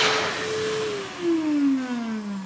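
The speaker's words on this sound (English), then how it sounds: "Did you hear the sound the hand dryer made?" An electric hand dryer blows a loud, steady rush of air close by, with a whining motor tone that slowly drops in pitch partway through.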